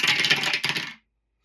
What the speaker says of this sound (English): I have 2 dice, and we're going to use the dice towers